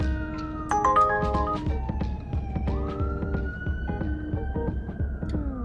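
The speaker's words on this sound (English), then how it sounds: "Oh, here comes an ambulance now." A siren wails close by, its pitch rising and falling in long sweeps over steady traffic rumble, with a horn-like blare near the start.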